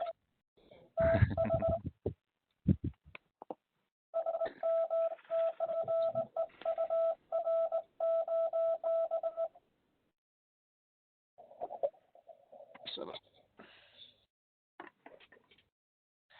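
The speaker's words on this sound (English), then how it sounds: "Send him a bit of Morse." Morse code sent over amateur radio: a steady pitched tone keyed into rapid dots and dashes for about five seconds, framed by brief scattered sounds and short stretches of talk.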